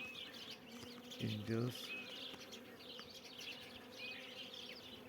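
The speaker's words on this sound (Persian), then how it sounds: "این زنبور تازه متولد شده است." A newborn bee buzzing near a hive, a steady faint drone under a low background hum, with a brief louder buzz in the middle and a quiet voice speaking once.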